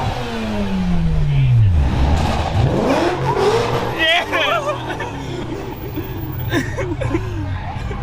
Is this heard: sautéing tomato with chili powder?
no